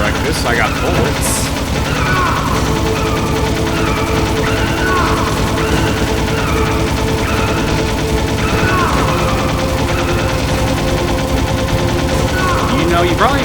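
Metal Gear Solid gunfire rattles in loud, continuous bursts, with voices speaking over the shooting.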